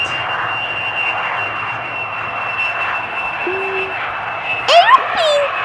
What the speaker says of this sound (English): Yes, it is a sound of an aeroplane.